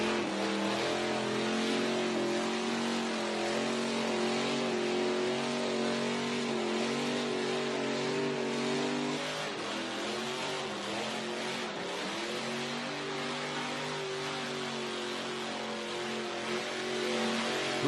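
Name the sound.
car doing a burnout at Summernats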